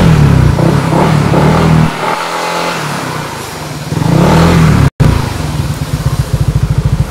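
A Yamaha Nmax 180cc scooter engine accelerates loudly up close, surging and droning through repeated throttle runs, with a brief cut and then a pulsing engine note near the end.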